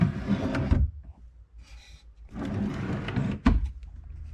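A wooden DIY pantry drawer sliding along its drawer slide, two soft rumbling runs separated by a pause, with a sharper thump near the end, close and fairly quiet, no talk.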